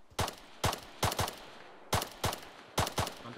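Sharp gunshots ring out in a military video game, about eight close, loud reports in irregular pairs and singles with short echoing tails, no voices heard.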